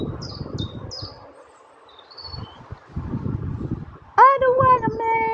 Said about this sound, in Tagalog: Daming ibon dito sa taas ng kahoy-kahoy.